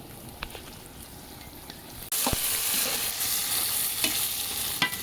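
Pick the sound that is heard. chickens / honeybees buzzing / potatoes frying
potatoes frying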